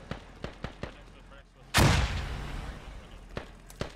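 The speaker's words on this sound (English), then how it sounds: "Grenades getting thrown out everywhere." Scattered sharp gunshots pop at a distance, then a single heavy grenade blast booms and rumbles away in the Squad military shooter, with occasional speech underneath.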